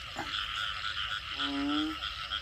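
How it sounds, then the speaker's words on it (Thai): Frogs and toads croak in a rice field after rain, a dense chorus of calls with one nearby frog giving a clear, rising croak that stands out above the continuous background trilling. "ตอนนี้เสียงกบเสียงเขียดหน่อยห้อง"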